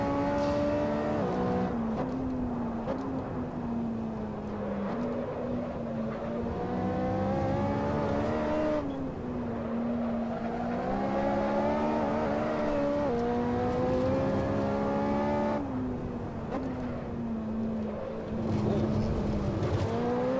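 Ferrari 458 racing engine in Assetto Corsa career mode, a loud continuous high-revving wail rising and falling through gear shifts across the whole stretch, steady and close.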